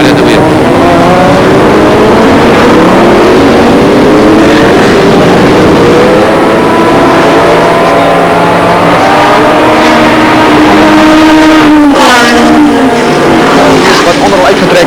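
A V16 Chevron and a flat-12 Porsche race car roar past at a 1988 Durban street race, engines howling loudly as their pitch climbs and sweeps, with a commentator talking over the din throughout.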